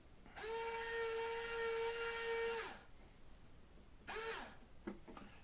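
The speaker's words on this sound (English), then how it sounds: "Now I'm only screwing it in far enough to have the tip come out the other side." A small power driver whines as a screw goes into a rudder control horn on a KS20 Kadet Senior model plane, one long steady high-pitched run followed by a brief second burst and a few quick taps, close and quiet, with no talk.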